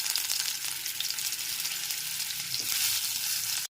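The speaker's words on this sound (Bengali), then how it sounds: "গ্যাসের ফ্লেমটা লো টু মিডিয়ামে রেখে আলুগুলোকে ভেজে নেব" Potatoes coated in salt and turmeric frying in oil over a low-to-medium gas flame, a steady, close, hissing sizzle that stops abruptly at the end.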